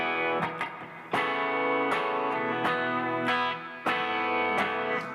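Electric guitar played through a compressor, strummed chords and picked notes held at an even, close, sustained level with a few sharp attacks, no talking over it.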